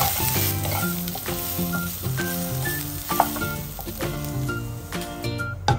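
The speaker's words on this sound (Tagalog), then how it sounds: "Gisahin na rin ang beans tapos haluin hanggang ang lahat ng gulay ay luto na" Beans and mixed vegetables sauté in a pan for a chicken wings dish, with a dense, continuous sizzle and stirring close by, under steady background music.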